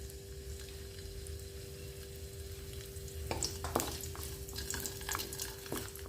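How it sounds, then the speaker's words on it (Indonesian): Candlenuts frying in a pan, a steady low sizzle with a faint constant hum, broken by a few louder scraping stirs partway through; no talk. "Terlebih dahulu di sini saya akan goreng untuk kemirinya"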